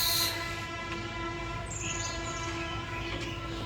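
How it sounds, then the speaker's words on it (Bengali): A small Sundarban Express ride train at a resort runs past with a steady engine drone and a brief horn toot, moderately distant under faint background ambience. "এই যে হচ্ছে ট্রেন"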